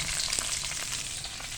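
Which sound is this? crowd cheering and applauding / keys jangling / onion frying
onion frying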